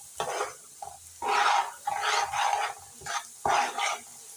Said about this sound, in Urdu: گرم آئل ہوتے ہی اب ہم نے اس میں سوجی ڈال دیا، اس کو تیزی سے بھونیں گے۔